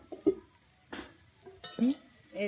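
Bitter gourd frying in a pan, a soft steady sizzle with a few brief stirring knocks and clinks, close and fairly quiet.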